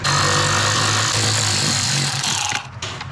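Power tool driving out T20 Torx bolts on a BMW M4 F8X speaker cover during a subwoofer install, a loud steady high-pitched whir sustained for nearly three seconds before cutting off.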